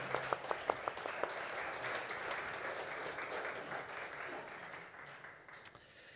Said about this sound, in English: I think these guys need a round of applause